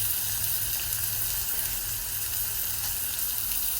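Ribeye steak sizzling in pure olive oil on a Blackstone griddle, a steady close hiss and crackle of frying that holds evenly throughout with no talking.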